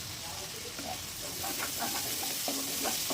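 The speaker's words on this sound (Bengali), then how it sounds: "ঢাকনা তুলে এখন নেড়ে চেড়ে দিয়ে দিব" Spices being stirred and fried in a pan for a tomato shrimp curry, a steady sizzle with scraping stir strokes under it, close and moderately loud, with faint speech-like sounds in the background.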